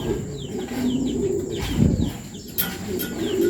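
Racing pigeons arrive at a loft, cooing in low repeated murmurs under soft chirps and brief wing flaps, close by against a steady background hum, with no talk.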